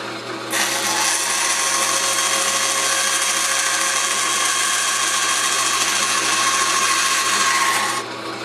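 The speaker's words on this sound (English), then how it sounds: "I'm going to cut off about 1/3 and then leave a small section so I can turn" A 3/8-inch wooden dowel rod turns on a lathe while being shaped into train whistle reeds, a steady, even whirring drone that runs unbroken for about eight seconds with no voices.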